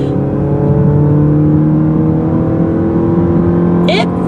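A 2015 Chrysler 200 engine holds high RPMs under an automatic transmission, a loud steady rising drone close by throughout, with a brief higher whine near the end.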